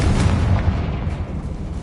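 A Confringo spell explodes in a video game with a loud, sustained rumbling blast of dense low-end boom that rolls on without a break for about two seconds.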